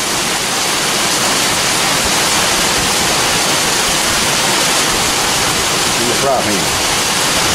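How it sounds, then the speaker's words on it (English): Wind blows steadily outdoors during rainy outdoor cooking, a loud continuous rushing roar that fills the whole stretch, with a brief voice partway through. "The wind's blowing out here"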